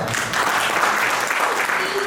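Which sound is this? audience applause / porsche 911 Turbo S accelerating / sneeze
audience applause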